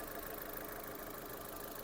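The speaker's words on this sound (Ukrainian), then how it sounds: "робота двигуна" An Opel Zafira B 1.8 engine runs steadily at idle, a constant broadband rumble and hiss with no voices over it.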